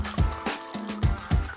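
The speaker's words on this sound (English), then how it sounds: "Then pour in your favorite drink." A drink is poured into a hollowed-out melon fitted with a tap, making a series of close, gurgling glugs in uneven bursts, with no one talking.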